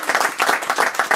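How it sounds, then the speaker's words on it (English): Brief round of applause from a small quiz-show audience, a burst of scattered hand claps lasting about a second, fairly close and moderately loud with no talking over it. "So give me a little round of applause and 30 quid."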